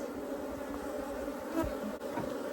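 Honeybees from an opened colony with broken comb buzz around the hive, a continuous close droning hum with individual bees swelling past, no talking.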